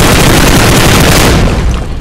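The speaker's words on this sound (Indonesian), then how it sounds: "Tembok berhasil dihancurkan menggunakan tembakan dari senjata yang saya bawa." Rapid gunfire in PUBG Mobile, fired to break down a wall near a supply crate, a loud, dense burst of shots that fills the whole stretch with heavy low booms before easing slightly at the end.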